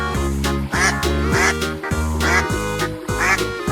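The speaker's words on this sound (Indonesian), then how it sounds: "Ini adalah bebek malard." A mallard duck quacks in a steady series of loud, nasal calls, about five or six distinct quacks over a few seconds, close and clear over a faint tonal background.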